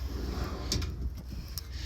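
Drawer in a 2021 Forest River Alpha Wolf 30DBH travel trailer sliding open with a short rolling rumble and a couple of faint clicks, close and quiet.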